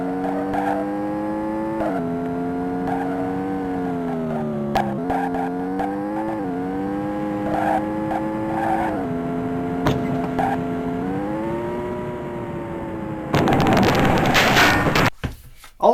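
In the arcade racer Hard Drivin', a car's engine drones steadily with rising and falling pitch as it runs through a loop, then a loud burst of noise like a crash or skid ends the run; no one speaks.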